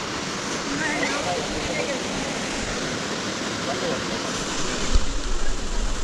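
A mountain river at Santaneshwor, near the Jharuwarashi waterfall, rushes with a constant dense hiss and roar, swelling slightly louder toward the end, while a voice talks faintly above the water.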